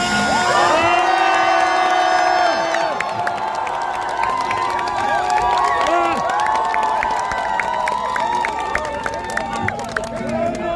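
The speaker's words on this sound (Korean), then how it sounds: "우리 다 함께 승리의 함성을 같이 외쳐봅시다" A crowd at a political rally cheers and shouts together in a victory cheer, loud sustained voices with whoops and rising shouts, followed by scattered clapping and continued crowd noise.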